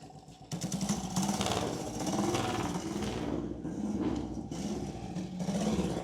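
A 93-year-old vintage motorcycle engine fires up and runs, a rough, loud, uneven clattering exhaust beat with pulsing rhythm that continues for several seconds after a brief quieter start.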